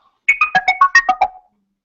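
Google Tone Chrome extension broadcasting its audio tone in a classroom: a quick burst of about eight bright chiming beeps rising and falling in pitch, loud and close, lasting just over a second.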